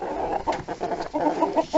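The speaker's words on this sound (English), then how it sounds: "Quick view of chickies, Buff Orpingtons" Buff Orpington chickens cluck softly in short, rhythmic bursts close by, a low murmuring series of calls with no talking.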